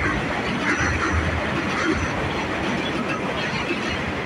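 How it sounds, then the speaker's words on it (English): Train passing through a residential neighborhood, a steady dense rumble and rattle of rail cars that stays loud and continuous throughout. "Nobody likes the train, but it doesn't bother me."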